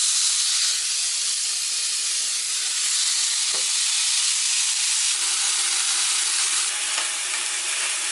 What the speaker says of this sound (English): And now it's smoking, so we're going to add the burgers season side down